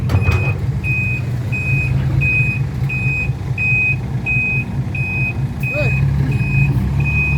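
Steady, evenly spaced reversing beeps repeat about every second over a rumbling heavy engine, with faint voices in the background.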